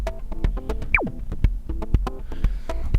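A four-patch multi from the Omnisphere synthesizer plays a busy layered pattern of plucked, percussive tones with a pitch-swooping sweep, sounding close and steady with no voices.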